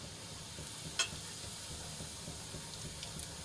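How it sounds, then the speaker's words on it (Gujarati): Cumin seeds sizzling in hot oil in a kadai make a soft, steady crackling hiss with one brief sharp tick, quiet and alone without speech. "તેલ આપણું ગરમ થાય એટલે એમાં આપણે અડધી ચમચી જેટલું જીરું એડ કરીશું"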